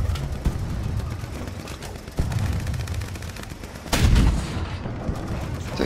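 Dense, continuous gunfire and explosions from the War Thunder combat game roar throughout, with heavier booming bursts near the middle and end, loud and close without clear speech.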